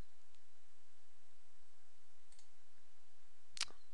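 Computer mouse clicks while someone copies and pastes in SharePoint 2010 with Visual Studio 2010: a faint click near the middle, then one crisp, close click toward the end over quiet background hiss.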